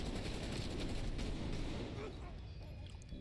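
Shotgun blasts from the Call of Duty Cold War video game: a close, loud cluster of booming shots over the first half, then fading into quieter game noise.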